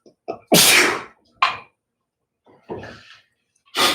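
Several sneezes burst out one after another in a quiet indoor space, a loud one followed by smaller bursts and another strong sneeze at the end, with short catches of breath between them.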